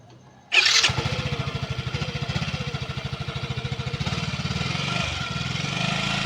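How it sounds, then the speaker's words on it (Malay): Yamaha Avantiz scooter engine starting with a sudden burst, then settling into a steady, rapid putter as it idles and warms up, close by and without talk. "Panas engine dulu."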